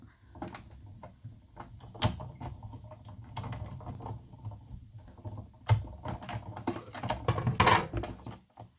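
A Big Shot die-cutting machine is cranked with a sheet, a cutting plate and a cutting mat fed through it. Close, uneven mechanical clicks, knocks and rumbles come as the handle turns, with a few louder clunks near the end.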